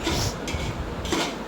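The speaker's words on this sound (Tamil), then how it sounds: "நல்லா பிரியாணி மசாலையும் நல்லா போட்டு வதக்கி விடணும்ப்பா" Biryani masala being stir-fried in a pot, a short burst of light metallic scraping and clinking of a spoon against the pot, two brief bright strokes over a low kitchen background.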